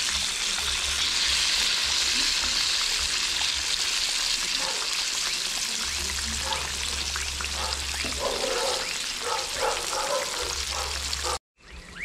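Bangamary fish sizzles steadily in hot oil in a pan, a constant loud frying hiss with a few louder spits and stirring sounds near the end before it cuts off abruptly.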